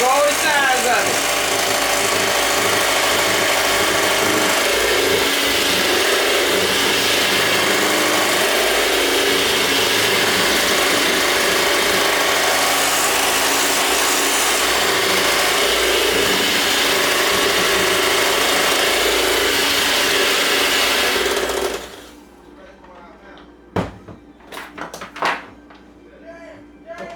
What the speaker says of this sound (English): just take the mixer and go over the sides of it